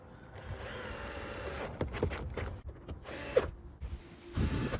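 Screws are driven back into a Chevy Volt side view mirror with a hand tool, producing a few close clicky ratcheting and scraping bursts separated by short pauses.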